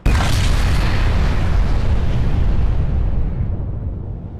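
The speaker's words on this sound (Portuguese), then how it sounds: "o barulho da explosão de uma bomba de hidrogênio é ensurdecedor" A hydrogen bomb explosion sound effect: a sudden, loud, deep boom that rumbles on steadily and slowly fades over several seconds, with nothing else heard.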